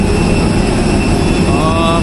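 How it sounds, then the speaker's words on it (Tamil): A jet airliner's engines roar steadily at an airport, a loud, dense broadband rumble with a faint rising whine near the end, close by and continuous. "வந்த ஃப்ளைட்டு இதுதான் வந்த ஃப்ளைட்."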